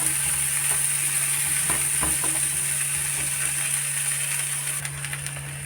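Chicken samosa filling with green peas sizzles steadily in a pan, a continuous bright hiss broken by a few faint clinks of stirring.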